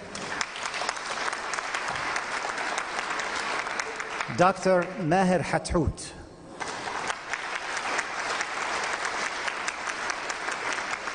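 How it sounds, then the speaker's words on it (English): Audience applause at a community recognition ceremony honoring Dr. Maher Hathout, a steady broadband clapping wash lasting throughout, briefly dipping while a voice speaks over it in the middle before the clapping swells back. "Each one of them deserves a lot of applause"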